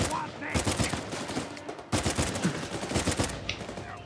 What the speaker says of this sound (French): Je prends des grosses balles.